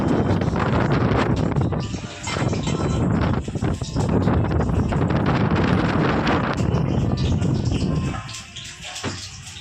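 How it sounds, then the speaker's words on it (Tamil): Strong cyclone wind roars and gusts through open windows during a storm, a loud continuous rushing that surges and dips, easing off near the end. "நீங்களே பார்த்துருப்பீங்க எவ்வளோ ஒரு காற்று, அதோட சவுண்டு"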